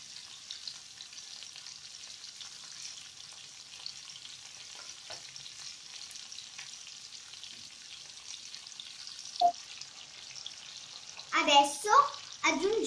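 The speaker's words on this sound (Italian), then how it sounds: "Adesso mescoliamo." Strips of beef fry with rocket and cherry tomatoes in a pan, giving a steady hiss of sizzling fat, broken by a few scraping stirs near the end.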